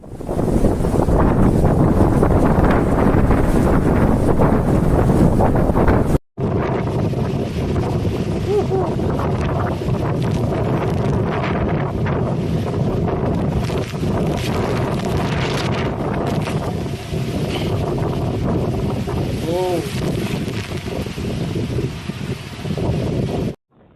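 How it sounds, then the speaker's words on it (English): Typhoon Wutip's strong wind roars continuously across the microphone in Sanya, Hainan, buffeting and rumbling without pause, loud and close, with a brief cut partway through. "fierce winds blew through the city from the early hours"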